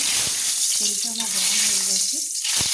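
Cut, washed potatoes hit hot oil in a kadai, giving a bright, dense sizzle that stays loud and steady, with a brief tonal voice-like murmur partway through.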